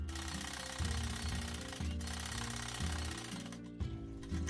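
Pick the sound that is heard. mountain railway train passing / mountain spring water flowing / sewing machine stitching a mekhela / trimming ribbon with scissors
sewing machine stitching a mekhela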